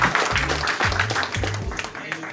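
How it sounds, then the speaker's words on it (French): Players and audience clapping at an amateur tournament's closing, a moderate round of applause with a voice speaking over it. "vous pouvez vous applaudir aussi"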